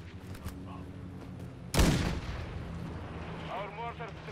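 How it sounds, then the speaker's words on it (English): Mortar strike in Call of Duty: Modern Warfare II, one loud sudden blast with a low rumbling tail, faint crackling shots before it and muffled gunfire trailing after, under quiet background sounds. "Our mortar strike is inbound."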